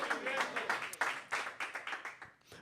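Church congregation applauding loudly during a Spanish-language sermon, a dense wash of many hands clapping with distinct sharp claps standing out throughout.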